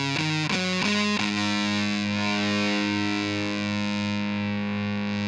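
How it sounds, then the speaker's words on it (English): Heavily distorted guitar through a Fuzz Face fuzz pedal: a few quick choppy picked notes, then one sustained buzzy, saturated chord ringing loudly to the end. "bought your first Fuzz Face pedal"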